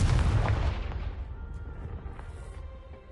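A Confringo blasting spell explodes in Hogwarts Legacy on PS5: one loud, deep boom that rolls off into a fading rumble over about three seconds, with no talk.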